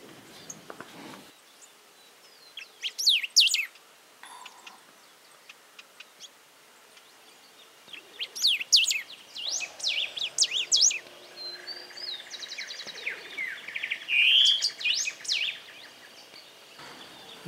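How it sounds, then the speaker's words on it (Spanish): Several bird species sing along a wooded creek bank in Santa Fe, Argentina, with bursts of chirps, trills and whistles that come and go over a quiet background, a few calls near and clear, others softer and farther off. "Aquí viven varias especies de aves."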